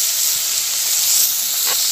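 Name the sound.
prawns frying in hot oil in a wok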